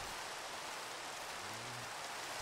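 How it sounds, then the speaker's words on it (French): Steady rain falls in the Minecraft video game, a dense, even hiss that holds at the same level from start to finish, with a faint low hum rising briefly near the end. "Ça mais la pluie, quel enfer!"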